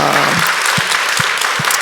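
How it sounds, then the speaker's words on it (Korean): Church congregation applauding at an anniversary revival service, a brief burst of steady, close clapping with a few low thumps mixed in and no talk over it. "우리 주님께 다시 한번 영광의 박수를 올려드립니다"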